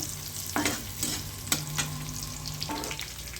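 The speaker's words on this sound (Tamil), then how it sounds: "அதுவும் இந்த எண்ணெயில் போட்டுக்கோங்க போட்டுட்டு சும்மா ஒரு லைட்டாக ஃப்ரை ஆனாலே போதும்" Coriander stems fry in oil for a crab curry, giving a steady sizzle broken by several sharp scrapes and stirs from a spoon in the pan, close and fairly quiet, with no talk.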